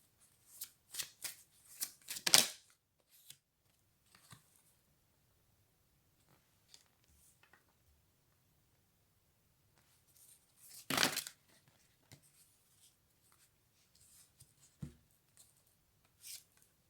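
Tarot cards are shuffled by hand in short riffling bursts, a cluster of quick crisp flutters early on and another burst near the middle, separated by quiet gaps with soft handling noises, close and fairly quiet.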